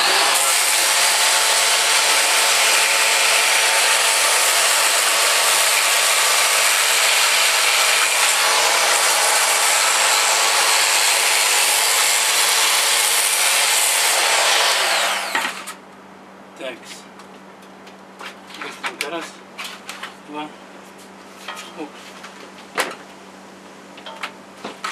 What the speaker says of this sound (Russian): хотели меня досочку шлифануть